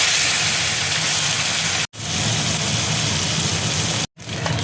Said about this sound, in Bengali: এবার আমি মাছটা দেখো দিয়ে দিচ্ছি।